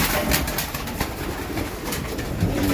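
Pigeons scuffling while being fed, with soft coos and fluttering wing bursts over a noisy outdoor background, moderately close.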